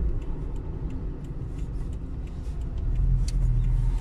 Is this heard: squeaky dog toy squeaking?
no